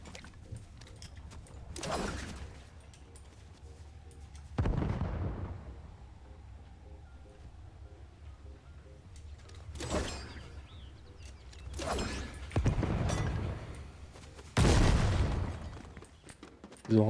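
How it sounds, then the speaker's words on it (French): Grenade explosions and gunfire in a Fortnite match: several heavy booming blasts spaced a few seconds apart, each rising from a low rumble, over a quieter steady game background with no speech. "Ils ont remis les grenades"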